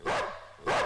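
A dog lying on a bed gives two close, fairly quiet barks with a short gap between them, the film scene otherwise quiet.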